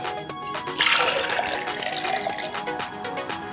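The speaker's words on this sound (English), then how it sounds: "now I'm going to pour this into my shaker." A pink drink, made in a TikTok recipe, is poured into a cocktail shaker, giving a steady liquid splash and trickle that stays close and fairly loud for a few seconds over faint background music.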